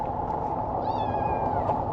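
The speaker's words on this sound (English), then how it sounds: "Cat's in the background, crying already, but she'll be fine." A cat cries in the background, one drawn-out wavering meow rising over steady broadband noise, moderately faint and alone.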